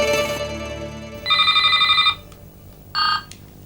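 A telephone rings indoors with an electronic warble, one long trilling burst followed by a shorter second ring after a pause, fairly clear and alone.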